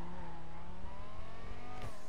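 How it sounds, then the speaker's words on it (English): A drift car in GTA 5 revs hard and accelerates around a corner, a loud, steady engine drone climbing in pitch, with a brief tire scrub near the end. "Even if I slow down and just gun it, just gas it around this corner"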